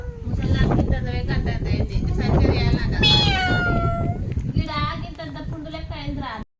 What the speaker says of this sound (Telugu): పిల్లి లోపల ఉన్నది.